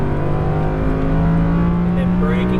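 An Audi R8 V10 Plus on a race track holds a loud, close engine note that rises slightly as the throttle opens, a continuous strong hum with a voice speaking over it.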